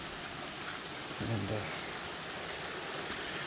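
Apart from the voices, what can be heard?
creek water flowing in the Blue Ridge Mountains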